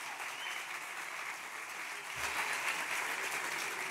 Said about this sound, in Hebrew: מחיאות כפיים ללירן